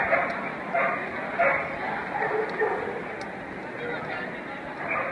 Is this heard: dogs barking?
yes